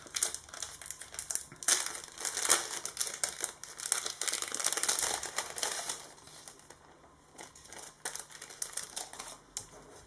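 Paper envelope torn open and handled, close crisp crinkling, crackling and tearing in irregular bursts, growing quieter toward the end.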